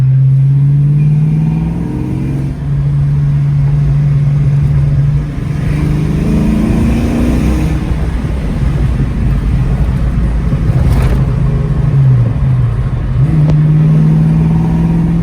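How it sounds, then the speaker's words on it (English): A loud 1990 Ford Mustang GT engine with a new D.U.I. distributor hums steadily, then climbs and dips as it revs, with wind buffeting the microphone; no voices. "even gave the exhaust note a little bit better tone to it"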